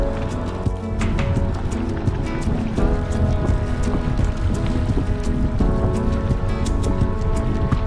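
Wind gusts buffet a sailboat on Lake Okanagan, a steady broad rush of air and water noise with microphone wind roar that swells and holds throughout.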